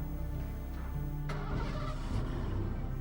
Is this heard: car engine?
yes